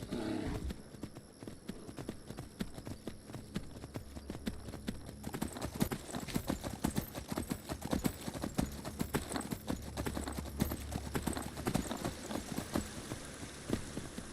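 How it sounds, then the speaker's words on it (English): A horse gallops in the video game Skyrim: steady rapid hoofbeats, close and continuous, with dense clattering that thickens midway, and no speech. "Horses really can't sprint for very long in this fucking game."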